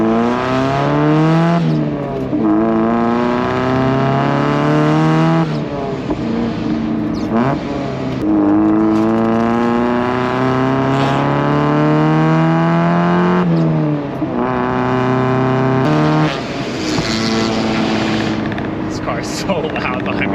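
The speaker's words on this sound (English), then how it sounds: "Like, oh, this thing's spitting flames." Mazda Miata with a resonator-equipped exhaust revs repeatedly, loud and close, its rising and falling engine note broken by popping and crackling overrun bursts.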